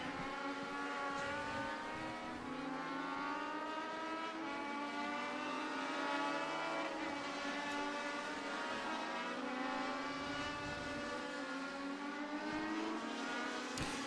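Legend race cars pass one after another on the New Hampshire Motor Speedway road course, their engines loud and close with a continuous rising and falling harmonic whine as the field streams by to complete a lap.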